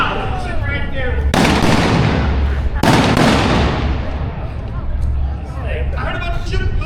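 Two sharp, loud gunshots about a second and a half apart ring out during a staged Wild West shootout show in South Dakota, with voices and crowd murmur running underneath.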